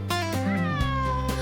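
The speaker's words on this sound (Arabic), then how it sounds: "هذه قطة لطيفة." A cat gives a few clear, close meows, loud and drawn out with rising and falling pitch, and no other sound around them.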